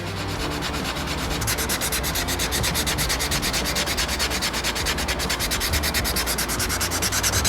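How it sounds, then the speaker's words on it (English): Sandpaper is rubbed over a wooden bass guitar neck, making a continuous, loud, close abrasive rasp with fast back-and-forth strokes and no talk. "We've got it sanded down all the way to the edge over here, and like that all the way around."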